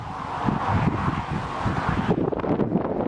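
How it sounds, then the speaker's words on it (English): Strong wind on an overcast day buffets the microphone in gusty, uneven bursts along a bramble trail in the UK, a loud low roar that dips briefly near the end. "It's rather windy today."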